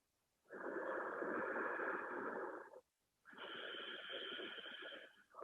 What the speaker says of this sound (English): Hearing that breath in the back of your throat.